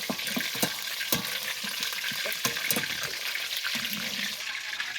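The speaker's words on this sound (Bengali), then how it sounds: "এবার বাদবাকিগুলো ভেজে নেব একইভাবে।" Chicken pieces fry in a pan for home-style chicken fried rice, giving a steady, close hiss of sizzling oil with a few sharp clinks and pops scattered through it; no one speaks.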